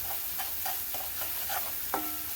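Chillies with onion sizzle in a frying pan with a soft, steady hiss while a spoon scrapes and stirs in repeated strokes, ending with a sharper metallic clink.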